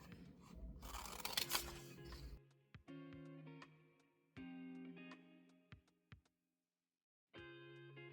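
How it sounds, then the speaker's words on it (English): Craft scissors snip through fabric pattern pieces in a quiet room, a run of separate crisp cuts with short pauses between them, close and clear, following a brief rustle of handling at the start. "We want to just use some craft scissors to cut this out."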